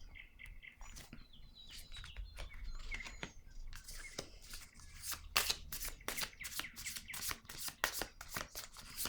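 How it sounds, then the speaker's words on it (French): Tarot cards handled on a table, with close, quiet shuffling and soft clicks leading into a crisp flurry as a card is laid down. "Je vais déposer une autre carte."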